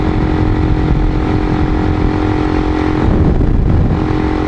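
Motorcycle riding along a narrow forest service road on a mountain, engine droning loud and steady close by, with wind rush and a brief dip in pitch near the end.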